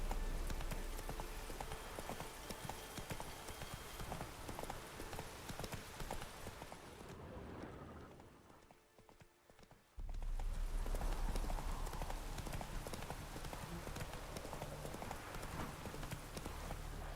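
Hooves of the horse Roach clip-clopping at a gallop in the video game The Witcher 3, a steady loud rapid beat that drops to near silence for a couple of seconds before resuming.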